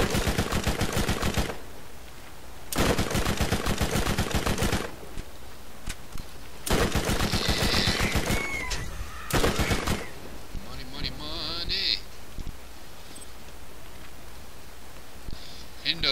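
Bursts of rapid automatic fire from an incendiary submachine gun in Borderlands, loud close rattling volleys in several separate strings with brief pauses between, followed by quieter game effects.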